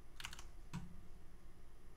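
Faint computer keyboard typing, a few light clicks in two short bursts against a low, steady background hum.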